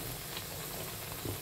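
Puri fries in hot oil, a soft, continuous bubbling sizzle at low level with no voices over it.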